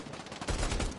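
Gunfire in the PlayStation VR shooter Bravo Team: a short burst of rapid, dense shots from a distance.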